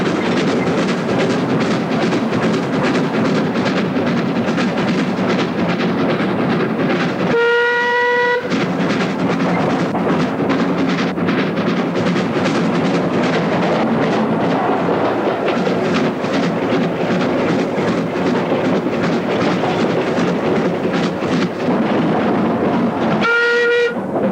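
A steam locomotive hauls a train steadily past on the London Underground District Line near Upminster, loud and continuous, with two short whistle blasts, one midway and another near the end.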